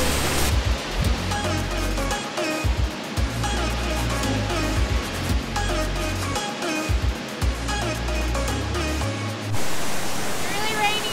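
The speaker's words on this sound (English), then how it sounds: "I don't know what it is about waterfalls, but gosh, they just make you happy." A waterfall at Paraty, Brazil pours in a dense, steady roar that fills the whole clip at close range, with a faint tone layered on top and a slight change in character near the end.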